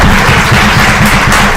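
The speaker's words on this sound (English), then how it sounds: "an applause for them." Applause from an audience at a national gathering in Évora, a dense steady wash of clapping that fills the moment without any talk.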